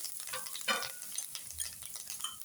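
A soft, steady sizzle comes from a cumin, asafoetida and curry leaf tempering frying in oil over a low flame, with small crackles and stirring scrapes throughout and no talking.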